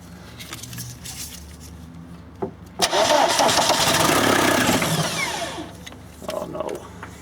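Starter cranking on a VW camper fitted with a swapped-in TDI diesel engine during a start attempt, a steady loud churning run of several seconds with brief clanks before it and faint talk at the end.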